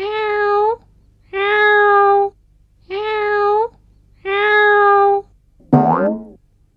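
A cat meows four times in long, even, drawn-out calls spaced about a second apart, close and clear over a low steady hum, followed by a short sharper cry.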